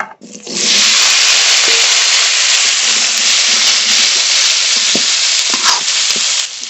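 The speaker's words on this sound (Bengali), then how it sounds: "এই তেলের মধ্যে আলু কটা ভেজে নেব" Potatoes dropped into hot oil erupt into a loud, dense sizzle half a second in, which holds steady with a few small pops and spatula knocks before easing slightly at the end.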